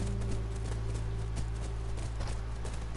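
Horse hooves clip-clop at a steady walking rhythm in the video game The Last of Us, over a constant electronic hum, with no talking.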